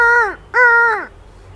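A voice imitates a house crow's call with two harsh, nasal caws in quick succession, loud and close, each dropping in pitch at the end.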